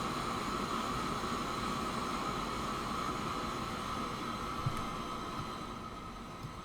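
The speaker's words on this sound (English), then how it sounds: "Double-headed Prussian, massive 40-car wagon train" Simulated double-headed Prussian steam locomotives hauling a long 40-car freight train in Transport Fever 2, a steady broadband rumble with a hum that holds throughout and fades slightly toward the end.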